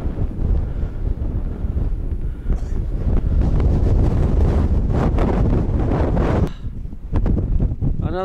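Loud winter wind in Glen Etive, Scotland, buffets the microphone in a steady roar, dips briefly near the end, then gusts again.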